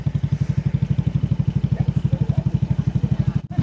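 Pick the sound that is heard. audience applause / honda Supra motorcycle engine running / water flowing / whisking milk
honda Supra motorcycle engine running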